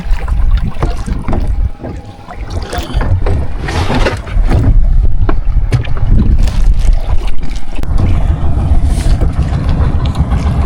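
Boats out on open water, with a steady broadband wash of engine and water noise and some wind, fairly loud and continuous throughout.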